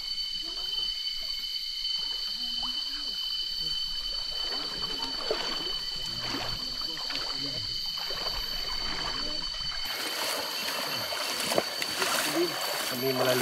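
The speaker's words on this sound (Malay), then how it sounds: "Kami melalui sungai yang pertama" The first river crossing on a hike up Gunung Tahan, Malaysia. A steady rushing and trickle of flowing water runs throughout under talking voices and footsteps, and it turns louder and brighter near the end.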